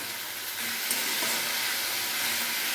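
Red amaranth greens being stirred with turmeric in a hot pan, giving a steady, close sizzle and frying hiss that holds at an even level throughout with no talking.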